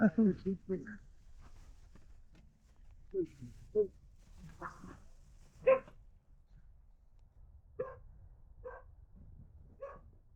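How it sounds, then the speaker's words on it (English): A puppy dog gives a handful of short, faint barks and yips spread out with pauses, mixed with quiet human voices talking nearby. "look at the puppy dog"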